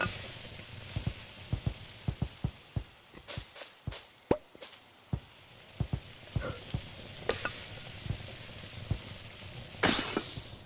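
Batter frying in a pan in the video game Yeeps, heard as a steady stream of small pops and clicks with scattered louder crackles over a soft hiss, ending in a brief bright burst.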